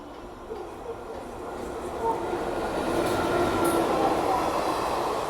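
A train rumbles through a railway station on the Howrah–Delhi route, a steady low rolling noise with faint wheel squeal building gradually, moderately distant.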